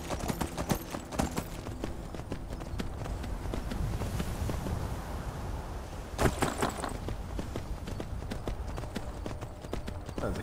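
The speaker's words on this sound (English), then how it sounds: "Go, my horse, go!" Horse hooves galloping in the video game Skyrim, a steady rapid clip-clop running throughout, close and fairly loud with a brief louder burst partway through, no talking.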